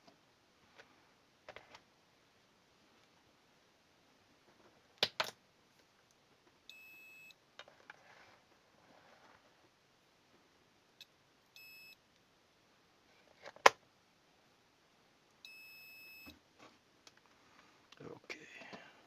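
A multimeter beeps while a wired gaming mouse's left-click switch is tested, giving short tonal beeps in two or three separate bursts among small clicks and taps, heard close in a quiet room.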